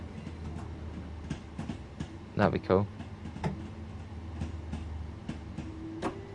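A Class 455 electric train in Train Sim World 2 runs with a steady low rumble and faint rhythmic clicks of the track, while someone talks over it at low level.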